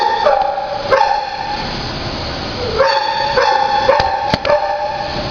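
Dogs bark and yip repeatedly at an animal shelter, sharp close barks scattered through the clip over a steady kennel din, with a medium-energy 46-pound dog among them.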